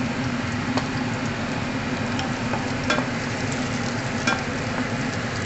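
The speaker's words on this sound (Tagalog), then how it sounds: "Fried lang natin, i-fried. Yun, onion and garlic." Onion and garlic fry in a hot pan, a steady dense sizzle running the whole time with a few brief scrapes and clicks of stirring near at hand.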